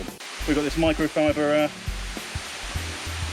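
The Chiang Mai Sticky Waterfalls give a steady broadband rush of falling water that runs under a person talking nearby and stays constant the whole time.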